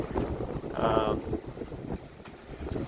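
Wind gusts buffet a sailboat on choppy water, roaring and rushing close against the microphone with splashing and hull noise, and a person speaks briefly in the middle.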